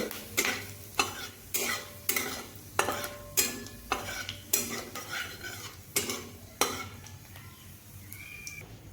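Cumin seeds and dried chillies fry in oil in a pan while a spatula stirs in regular scraping strokes, metal clinking over a soft continuous sizzle close by.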